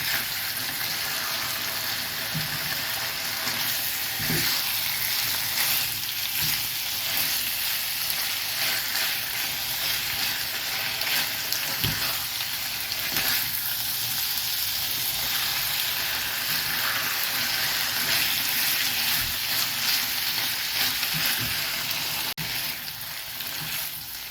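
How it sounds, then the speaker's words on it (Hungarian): Meat, likely duck or chicken, sizzling and browning steadily in a hot pan for a long stretch, a dense continuous hiss with occasional faint stirring knocks and no voices. "amíg sül a húsink, illetve pirul"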